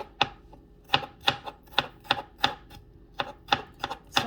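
A knife chops meat pie filling ingredients very thin on a board, giving a steady series of about a dozen crisp, close knocks at a brisk, slightly uneven rhythm, with no talking.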